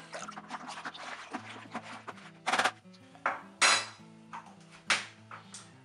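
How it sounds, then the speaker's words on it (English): A homemade scrumpy cider mixture made from apples is stirred in a bucket. A spoon knocks and clinks against the container in irregular bursts, with a few louder sloshing sweeps near the end and no talking. "And then we're going to give it a good stir."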